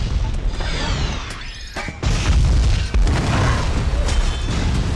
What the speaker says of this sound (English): The Green Goblin stays having explosive grenades.